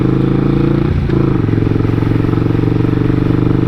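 A 1999 Suzuki Intruder 800 motorcycle idles close by after warming up, its engine giving a loud, steady, lumpy rumble with a brief dip in the beat near the start.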